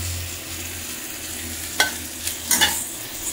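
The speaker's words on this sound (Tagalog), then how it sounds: "ito na po yung ating stir-fried choy sam" Choy sum being stir-fried in a pan for a Chinese-style dish: a steady background sizzle with a low hum, then a few sharp scrapes and clatters of a utensil against the pan near the end.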